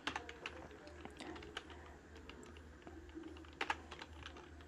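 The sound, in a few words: typing code on a computer keyboard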